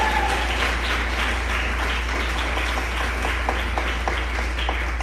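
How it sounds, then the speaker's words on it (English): An audience applauds panelists at a Cannabis Women's Empowerment Society livestream event. Steady, dense clapping fills the room throughout, heard over a low electrical hum. "So let's give them a round of applause again."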